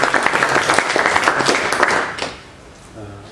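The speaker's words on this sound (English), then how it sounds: "Please give him an applause." A room full of people applauding after a technical presentation, steady clapping that fades out after a couple of seconds, leaving quiet murmurs.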